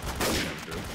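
A quick burst of gunfire in the game Trouble in Terrorist Town, a few rapid shots packed into about a second, fairly loud and close.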